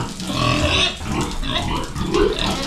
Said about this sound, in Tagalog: Dito po sa ating kulungan ng baboy,